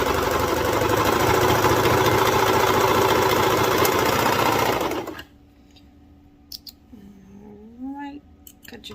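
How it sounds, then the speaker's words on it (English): A serger stitches a seam on a baby bodysuit, running as a loud, steady, fast-whirring motor hum for about five seconds before stopping abruptly, leaving quiet handling noises and a faint, wavering tone afterward. "if you see me using the serger, you can absolutely use a sewing machine"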